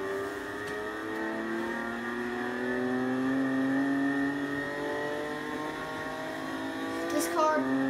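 A Volkswagen Jetta with a stock engine, lowered and without exhaust, revs in Forza Horizon, its engine note climbing steadily in pitch as it accelerates and then dropping sharply near the end. The sound is loud and close throughout.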